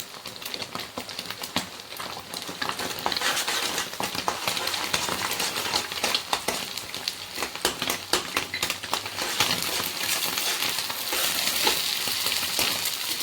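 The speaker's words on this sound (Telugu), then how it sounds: "అల్లం వెల్లుల్లి పేస్ట్ యాడ్ చేస్తున్నాం. దీంట్లోనే కొంచెం పసుపు వేసుకుంటా." Ginger garlic paste and turmeric frying in a pan for a cauliflower egg fry curry: a steady, close sizzle with dense crackling pops running throughout.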